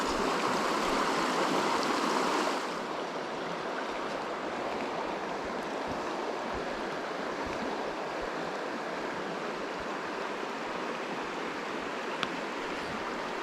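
Fast-flowing river water rushing in a steady, dense roar close by, a bit brighter for the first couple of seconds, with no talk over it.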